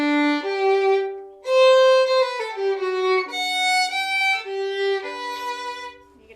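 A bowed string instrument plays a short slurred passage, with sustained notes linked by audible scratchy string crossings; the sound is close, clear and alone.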